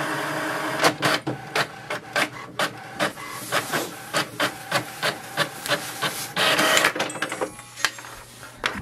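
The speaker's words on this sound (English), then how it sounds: "it will send a command for the printer to print the" HP Envy 6000 all-in-one printer printing an information page: a close, loud run of rhythmic mechanical clacks and whirs repeating about every half second, with a longer feed whir near the end.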